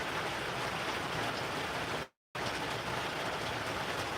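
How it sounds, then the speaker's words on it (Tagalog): Heavy rain pours in a dense, steady hiss that fills the whole stretch, broken only by a brief cut to silence partway through. "Malakas ulan."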